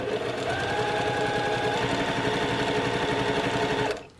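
A sewing machine stitches a quilt block in a steady, rapid run of needle strokes, loud and close, with no talk over it, then stops abruptly near the end.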